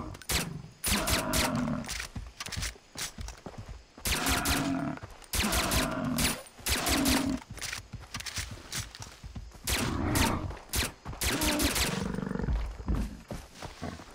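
Repeated bursts of gunfire aimed at a buffalo in the video game Far Cry 3, loud clustered volleys separated by short gaps, with animal roars mixed into the game sound and no talking.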